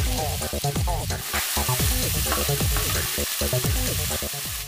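Chicken frying in hot olive oil for bread shawarma gives a steady, dense sizzle that runs the whole time beneath plucked, melodic background music.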